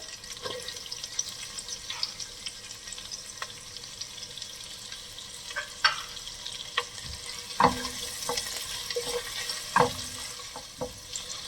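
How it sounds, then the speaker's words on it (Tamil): Medium-sized sliced onions and cashews frying in a pan for vegetable biryani, a quiet steady sizzle broken by occasional sharper crackles and stirring clinks. "ஒரு 2 நிமிஷம் கிட்ட கொஞ்சம் நல்லா வதக்கிக்கோங்க."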